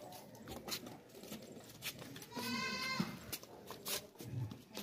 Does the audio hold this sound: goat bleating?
yes